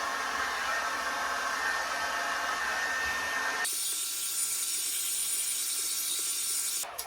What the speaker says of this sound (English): I'm going to take my blow dryer and I'm just going to dry it a little bit